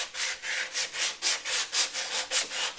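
180-grit sandpaper rubbed back and forth over Bondo glazing and spot putty on a 1965 Corvair's repaired rust spot, a steady rhythmic rasping about four strokes per second, close and alone.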